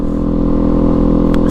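Kawasaki Z400 sport bike exhaust rumbling at a steady, loud idle-to-cruise drone with dense low harmonics, close and continuous throughout.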